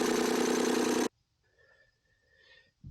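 A 3-cylinder Yanmar diesel engine runs loud and fast, racing at a high, steady clatter for about a second before cutting off abruptly, followed by faint, quiet background sounds.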